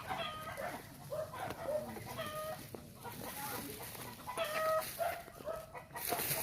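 Farm hens cluck in repeated short calls with faint crowing mixed in, heard at a moderate distance among several birds, with quiet voices in the background.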